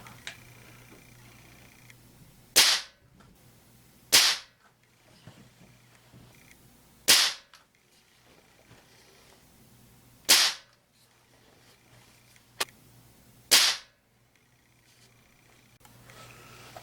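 Five sharp shots from a Crosman TR77 NPS .177 short-barrel air rifle firing RWS Hypermax 5.2 grain alloy pellets, each loud crack evenly spaced a couple of seconds apart, with faint ticks and a low hum between.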